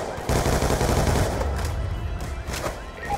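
Gunfire from Call of Duty Black Ops II, a sustained loud barrage of rapid shots in a chaotic firefight on a city overpass, dense and continuous with brief surges.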